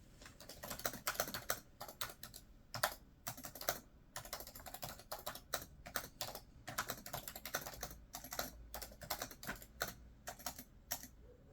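Rapid typing on computer keyboards, with fast irregular bursts of close, crisp key clicks running continuously and only brief gaps. No one speaks.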